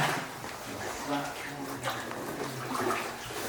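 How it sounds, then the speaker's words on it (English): Water trickling and splashing in a flooded gold mine tunnel, a steady close rush with a person talking over it. "we found some dammed up water,"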